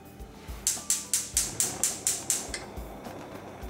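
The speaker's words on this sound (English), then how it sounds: "We're going to turn the stove on." A kitchen stove is switched on with a rapid train of about nine sharp, evenly spaced igniter clicks, then quiet.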